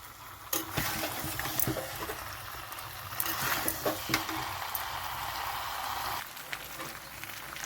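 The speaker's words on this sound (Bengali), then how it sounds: "এখন এটা খুব ভালোভাবে কষাতে হবে। কষাতে কষাতে তেল ছেড়ে যাবে" Chicken being sautéed with spices in a pan, stirred steadily so it sizzles, with scattered clinks and scrapes of a utensil against the pan over a continuous frying hiss; no talking.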